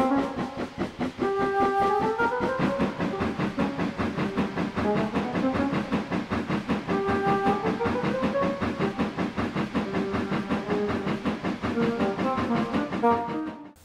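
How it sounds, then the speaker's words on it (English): A steam goods train of about 30 trucks rolls past with a rhythmic chugging clatter while its whistle sounds two long chord-like blasts, the steady rumble continuing throughout. "judging from the sound, there must have been close to 30 trucks in that train"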